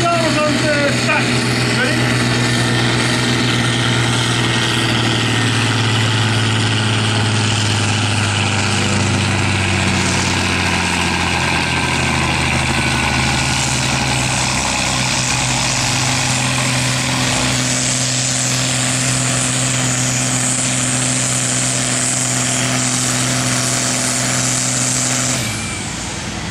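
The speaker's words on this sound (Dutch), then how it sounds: "En de trekker van Hilde is een beetje aan de zware kant" A heavy pulling tractor in the 3.5–4.0 ton class roars at full power during a tractor pulling competition in Ysselsteyn, a loud sustained engine drone with steady harmonics that holds for about 25 seconds before cutting off abruptly.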